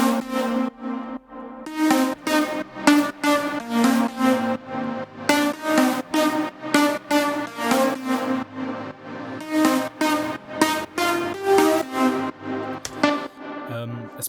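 An electronic song drop built in Ableton Live, with a Nexus pad layered in, pounds along with loud rhythmic synth chords and a thick sustained bed, driving steadily throughout.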